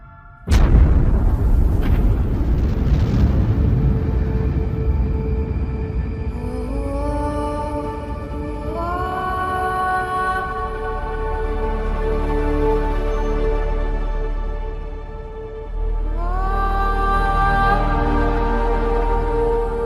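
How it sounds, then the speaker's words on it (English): Supernova sound effect of a collapsing, exploding star. A sudden deep boom opens into a long rumbling roar, and rising tonal sweeps layer over a sustained low drone. It is loud and cinematic, with no voices. "the star collapses and then explodes with the brightness of 1 billion suns"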